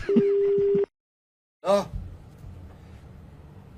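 Telephone busy tone on a hung-up call during a radio prank show: a steady, loud beeping tone for under a second, then silence, followed by a brief breathy sound and a low background murmur.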